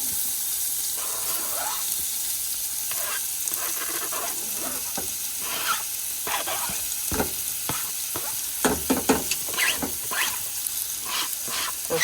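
Onions, ginger and garlic sizzle in a pan with a steady frying hiss, broken by scattered clinks and scrapes of stirring, with louder utensil knocks toward the end.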